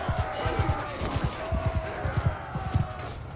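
Galloping horse hooves in Mount & Blade II Bannerlord, a battle scene: rapid, irregular thudding hoofbeats in quick clusters, fairly close, over a busy background of combat noise.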